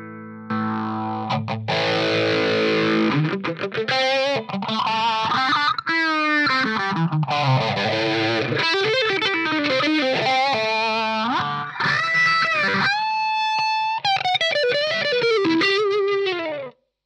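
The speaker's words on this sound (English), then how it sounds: "if we put on our overdrive going into the phaser" Overdriven electric guitar with a sweeping phaser plays a melodic lead line, sustained and loud throughout, ending abruptly.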